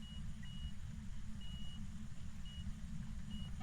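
EMF 5 reader in Phasmophobia emitting a steady series of short, evenly spaced electronic beeps, fairly faint over a constant low rumbling hum, with no talking.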